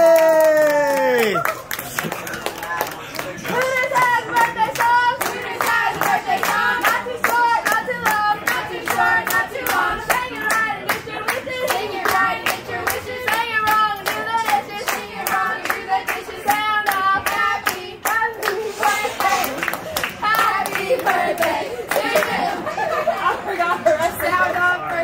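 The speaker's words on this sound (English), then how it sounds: "Can I get a round of applause?" A crowd in a Hooters restaurant claps for a 19th birthday, dense applause and cheering lasting throughout, loud and close, with excited voices and chatter mixed in.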